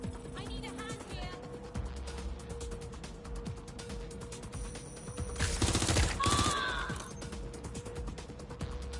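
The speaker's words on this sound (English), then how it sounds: "They're shooting at us." Enemy gunfire in Watch Dogs: Legion, rapid automatic bursts and clattering shots that build to a dense louder volley midway, with mechanical clicks and a voice talking over it.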